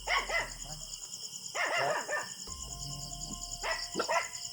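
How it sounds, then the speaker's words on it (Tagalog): Several house dogs bark at home, including a small one, in sharp repeated bursts up close, with crickets chirping steadily behind and someone briefly speaking. "Ayun na pa itong mga aso ko, tol, paraging tumatahol."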